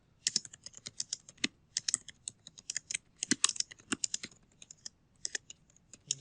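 Fingers type on a computer keyboard entering text into HTML code, producing close, irregular clusters of sharp key clicks with brief pauses between bursts.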